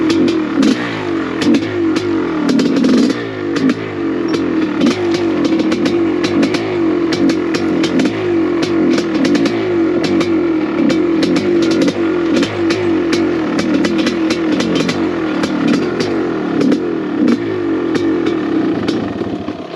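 A 1985 Honda CR500AF dirt bike conversion rides steep trails, its engine loud and close throughout, droning and revving continuously with rattles and clatter from the terrain.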